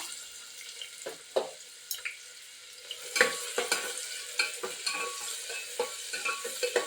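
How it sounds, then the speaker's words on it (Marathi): Finely chopped onion goes into lightly heated oil and is stirred, giving a soft, close sizzle under repeated scraping and clattering strokes of a spoon in the pan. "तेल गरम झालं हलकंसं की आपण त्याच्यामध्ये कांदा टाकूया तर मी त्याच्यामध्ये कांदा टाकते बारीक चिरून घेतलेला कांदा"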